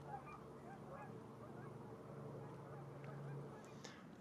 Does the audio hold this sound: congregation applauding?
no